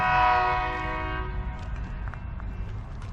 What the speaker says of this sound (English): wonder if he's honking that horn at me